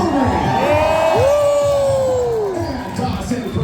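A crowd at a lumberjack show in Ketchikan, Alaska cheers and whoops for the climbers, loud and close. A sliding whistle-like whoop rises above the roar, and a voice is heard along with the crowd.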